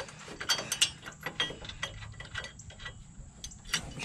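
A ratchet tightens a nut on a Dodge Ram dual-shock steering stabilizer bracket, giving quick, close clicking bursts in a rapid irregular rhythm with no talking.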